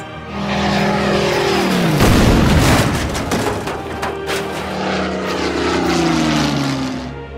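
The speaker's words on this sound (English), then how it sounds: "now where is my bomber here?" Propeller-driven WW2 bomber engines from the Order of Battle WW2 strategy game, a loud steady drone with a rising pass-by roar near the middle and pitch shifts as it flies over, no talking.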